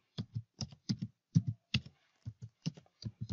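Someone types a web address on a computer keyboard: a run of crisp, close key clicks in an uneven rhythm, with no talking.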